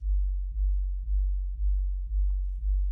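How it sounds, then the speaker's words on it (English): A deep, sustained 808 sub-bass tone pulsing in long notes, retriggered about every half second, loud and steady with no other sounds. "It's a big long 808."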